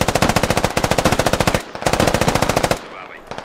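Rapid machine-gun bursts fire in the military shooter game Squad, loud and close, as two long rhythmic strings of shots with a short gap between them, then a quieter tail.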